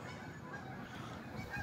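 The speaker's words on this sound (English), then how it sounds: "Canadian, they look like Canadian geese." Flock of Canada geese flying south overhead in Kansas, a faint, brief burst of honking calls over a low outdoor background hum.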